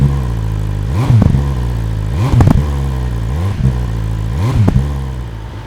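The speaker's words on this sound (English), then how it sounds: "I will try and give it a go right now in order to hear the grunt of the engine" A 2019 BMW S1000RR superbike engine idles loudly up close, blipped in four sharp throttle revs that rise and fall back to a rough idle.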